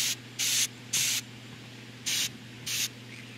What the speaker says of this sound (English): Alright, time to spray